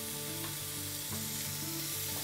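Prawns stir-frying with garlic in a pan over a high flame, a steady close sizzle with a few soft scraping stirs.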